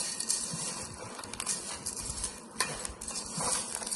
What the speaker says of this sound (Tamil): மிக்ஸ் பண்ணலாங்க